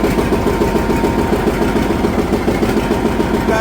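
A John Deere R tractor diesel idles steadily after its pony motor shuts down, a loud, even rhythmic chugging with a throbbing low rumble and no voices.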